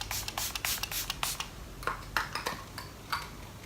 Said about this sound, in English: Let's just spray some.